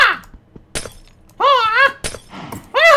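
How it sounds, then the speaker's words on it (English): A glass block in Minecraft smashed by a bare fist, heard as short, crisp shattering bursts alongside brief voiced tones. "I break this glass with my fist like Bruce Lee"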